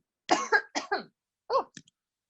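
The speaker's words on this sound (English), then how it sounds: "I hope I didn't blow out your guys' speakers with that impromptu cough." A few sharp, close coughs in two bursts, loud and alone with no talk, cut off by a short pause.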